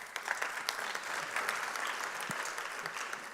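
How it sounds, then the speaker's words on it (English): Audience applause at a 2024 National Elections town hall hosted by Mail & Guardian with UL: steady, even clapping from a seated crowd that holds for several seconds at moderate, slightly distant volume. "You really deserve a round of applause"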